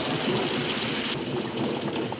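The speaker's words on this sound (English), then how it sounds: "We can't go much further in this rain" Heavy rain pours down outdoors in a dense, steady hiss that stays loud and unbroken throughout, with no voices.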